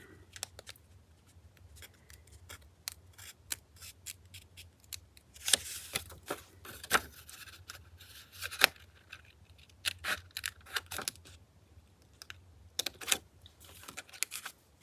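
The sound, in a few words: scissors cutting thin paper for a collage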